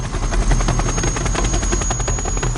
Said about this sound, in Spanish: El único modo de entrar era un helicóptero Black Hawk.